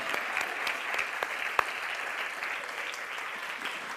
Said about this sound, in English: For this, I also have to clap.